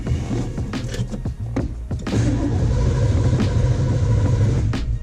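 A 1970 Ford Mustang engine runs on its first shakedown run, a steady close low rumble with a few sharp clunks and rattles over it and no talking.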